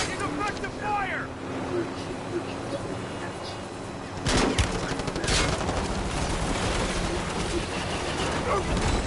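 Gunfire in a Call of Duty battle: scattered shots early, then heavy bursts and sustained fusillade with loud impacts, close and continuous, while soldiers' voices call out over the combat.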